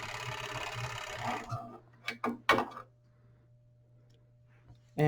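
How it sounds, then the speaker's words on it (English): A Juki industrial serger runs fast for about a second and a half while sewing a fabric edge, followed by a few clicks and knocks, a low steady hum and a brief restart at the end. "So I'm going to go ahead and serge this long edge here."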